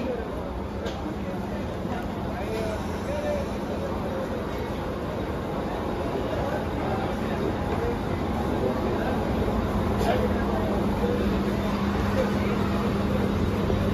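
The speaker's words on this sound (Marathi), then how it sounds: "हार्बर लाइन से वाशी जाने वाली 12 डिब्बों की धीमी लोकल है" A 12-car Vashi-bound Mumbai suburban slow local on the Harbour line rumbles steadily at Reay Road station platform, a continuous loud mechanical drone with a faint hum, while a station announcement plays over it.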